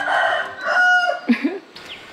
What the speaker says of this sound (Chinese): 我看到前方有一只公鸡